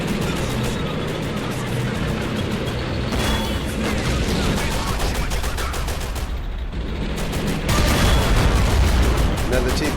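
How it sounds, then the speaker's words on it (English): Explosions and gunfire in the war game Men of War, with friendly artillery rounds hitting dirt during a Russian tank charge: a dense, continuous barrage of booms and shots, loud and unbroken, with someone talking over it. "It looks like a lot of those explosions are actually friendly fire hitting the dirt."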